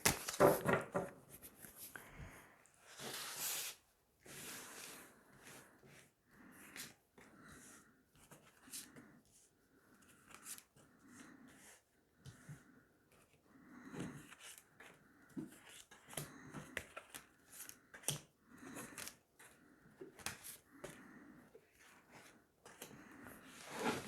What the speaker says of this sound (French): Je vais tirer 9 cartes.